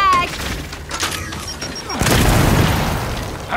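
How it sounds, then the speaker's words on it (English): A frag grenade goes off in the Gears 5 video game, one loud close boom with a broad crashing burst that rings out over scattered game noise and gunfire. "Throwing frag!"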